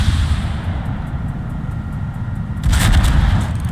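A battleship in World of Warships fires a broadside salvo of armor-piercing shells: a loud, heavy boom bursts out near the end over a constant rumbling engine and sea backdrop.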